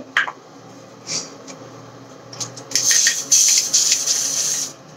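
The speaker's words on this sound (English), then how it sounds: "So here is the Dove styling spray." Bursts of Dove styling hair spray hiss, a brief one early, then a longer sustained spray with a couple of short pauses, fairly close.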